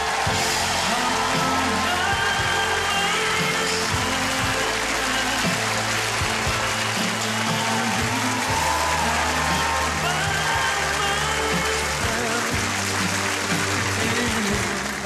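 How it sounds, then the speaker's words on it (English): A dating-show studio audience applauds for a contestant, a dense continuous roar of clapping and cheering that holds for a long stretch, with music and voices underneath. "Give him a round of applause."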